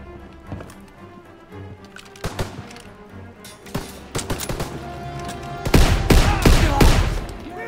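Gunfire in the Call of Duty: WWII video game, scattered sharp shots that build into rapid machine-gun bursts and heavy blasts, loud and close, growing denser toward the end.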